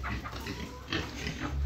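Pigs grunt and oink in their pen inside a farm barn, several close, loud snorting grunts running together over a brief stretch, with no talking.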